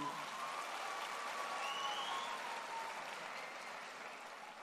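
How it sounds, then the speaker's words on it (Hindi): Faint, distant applause from an audience at a Safe Shop business gathering, a soft continuous wash of clapping that stays steady and then tapers slightly toward the end. "एक बार जोरदार तालियां हो जाए उनके लिए।"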